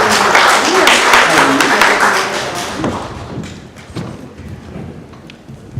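Audience applause after a talk by Dr. Julius Garvey, a dense wash of clapping that swells loud at first, then thins and fades out over several seconds with a few scattered claps at the end.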